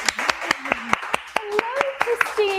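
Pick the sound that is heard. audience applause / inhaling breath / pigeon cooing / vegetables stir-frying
audience applause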